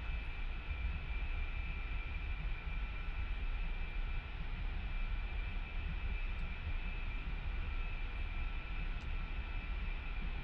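An A-10 jet taxiing in the flight simulator DCS World gives a steady, loud engine drone with a constant whine that holds unbroken for the whole stretch, with no voices.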